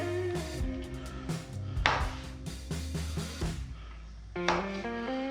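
Beef being chopped into bite-sized pieces for stew, a run of sharp knife strikes on a cutting board at an irregular rhythm, close and fairly quiet, with a short pause before a few final cuts.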